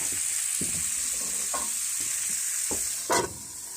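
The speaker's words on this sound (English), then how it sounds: "We're going to cook this down until it's about till the onions start to look a little clear." Onions cooking down in a covered pot for off-grid gumbo, a soft steady sizzle with a few faint knocks and scrapes and one brief louder clink near the end.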